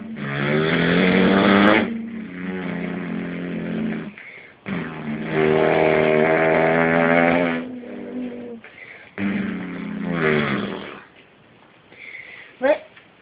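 A voice imitates a rally car, producing loud, buzzy engine-like revving bursts in three long sustained runs with short gaps, ending with a brief sharp sound.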